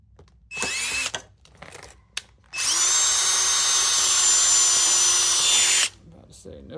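A power drill bores through the metal core of a rivet while fitting a soft top to a 1990-2005 Mazda Miata MX-5, with one short burst, a brief blip, then a long steady high whine of about three seconds, close and loud.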